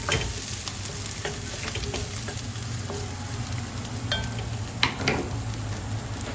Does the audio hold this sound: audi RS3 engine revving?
no